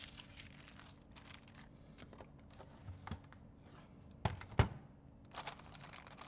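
Greaseproof paper crinkles and rustles softly near a laminator while being handled, with scattered light crackles and a couple of sharper crunchy handling sounds over a faint steady hum.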